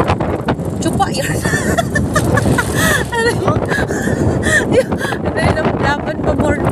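Wind buffets the microphone in a constant rough roar while people talk and laugh over it.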